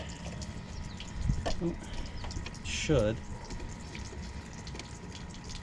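Water squirts and hisses steadily from a HighTech diamond lapping wheel grinder used for grinding cups, with a short mechanical clunk and someone talking over it.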